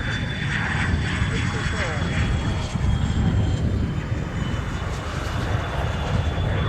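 Black Eagles jet aircraft flying a display at the Royal International Air Tattoo air show, a steady loud engine roar filling the air throughout, with people talking over it.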